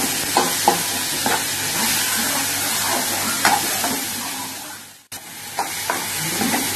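Tomato and coconut sautéing in a pan as the base for a village-style crab kuzhambu, a loud, close sizzle with repeated clattering stirs, a brief drop to near quiet, then the frying and stirring resume.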